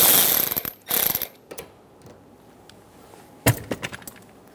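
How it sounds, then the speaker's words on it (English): A ratchet wrench removes the last nut holding a towing mirror on a 2014-2018 Chevrolet Silverado 1500, with loud bursts of rapid clicking and brief pauses between, close to the listener. "remove that last nut"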